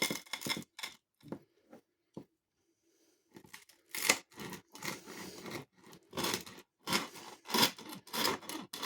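A knife saws through a Lidl pizza sub, cutting it in half with crunchy, scraping bursts of crust and bread, close and fairly loud, pausing briefly, then resuming in quick repeated strokes.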